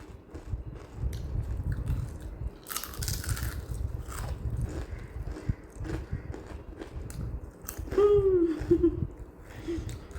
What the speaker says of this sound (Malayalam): നല്ല കറുമുറയുള്ള നല്ലൊരു അച്ചപ്പാണ്